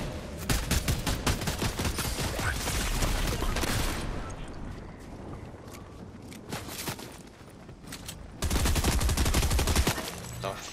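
Video game shootout with dense, loud bursts of automatic gunfire, a pause in the middle, then another heavy volley near the end, with some faint voices mixed in.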